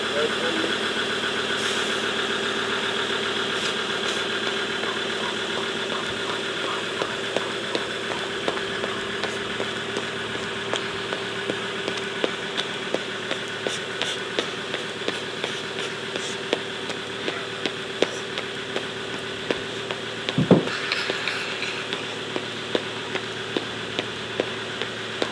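A car engine idles in neutral with a steady low hum and faint regular ticking, close and unchanging throughout. A brief thump comes near the end.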